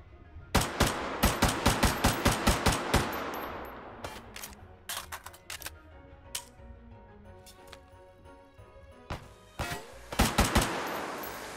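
Unsuppressed gunfire from a firearm in the VR shooter Hot Dogs, Horseshoes & Hand Grenades: a rapid string of loud, sharp shots for about three seconds, then scattered single shots and clicks, ending with another quick burst.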